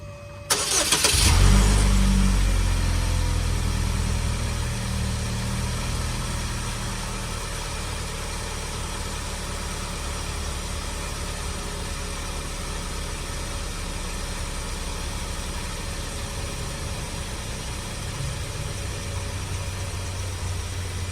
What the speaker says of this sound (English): we're going to start it up and see how it did